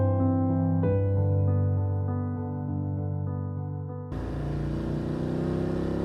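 A motorcycle engine drones steadily on a ride through northern Spain, a sustained tonal hum that gives way partway through to a louder, rougher, wind-blown rush.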